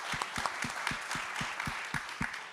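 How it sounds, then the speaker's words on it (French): Applause from an audience at a forum presentation on innovative solutions, quite faint and distant, with a few sharper individual claps standing out at a regular pace against the softer wash of clapping. "Vous pouvez l'applaudir"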